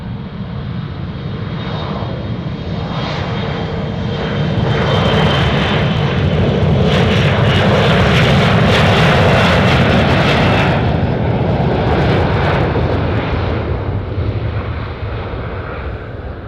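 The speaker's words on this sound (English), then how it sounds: "All right, there it goes. There goes the E175" An Embraer E175 jet takes off at Anchorage airport, engine roar building from a steady rumble to a loud peak midway, then easing slightly as it climbs away; no talking.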